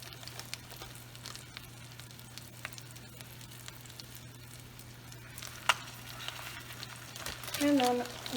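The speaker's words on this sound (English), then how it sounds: "Get these frying." Quiet, steady sizzle of large chicken breasts frying in a pan, with a low constant hum underneath and a few small clinks near the end.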